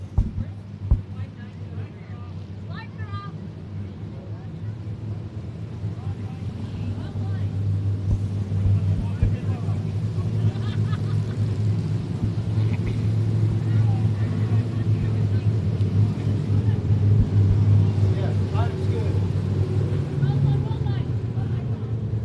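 Limited modified race cars roar around the I-37 Speedway dirt track during a 25-lap A feature, a continuous loud engine drone that swells toward the middle under an announcer talking over it.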